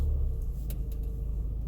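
A 2019 BMW Z4 sDrive30i creeps backward under automatic reversing assist in a tight space, producing a low, steady engine rumble with faint mechanical ticks and no voices.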